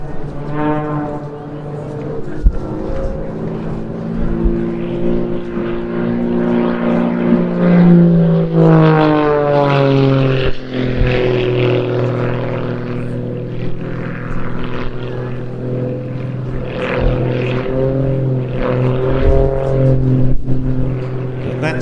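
An aerobatic propeller plane with an upgraded Lycoming piston engine performs at the Jersey International Air Display, a loud, continuous droning engine whose pitch rises and falls as it passes and manoeuvres, with a voice faintly present in the mix.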